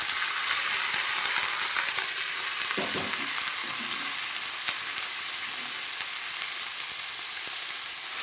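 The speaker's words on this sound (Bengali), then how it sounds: "এই সবজিটা আমি কড়াতে ভেজে দিলাম" Vegetables fry in a kadai with a bright, steady sizzle and crackle, joined by a short scrape of stirring partway through, with no one talking.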